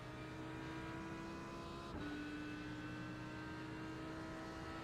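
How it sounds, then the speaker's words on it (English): Audi V10 race car engine in a sim racing game at Sebring, a steady, loud sustained drone with a strong tonal whine that shifts pitch as the car accelerates, with no speech over it. "Beautiful sound of the Audi V10"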